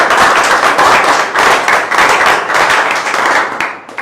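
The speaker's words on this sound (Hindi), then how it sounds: "सभी अपने सम्मान में जोरदार तालियां बजाएं" Loud, continuous applause from a large audience at a direct-selling network marketing event, dense clapping sustained throughout with a slight dip near the end.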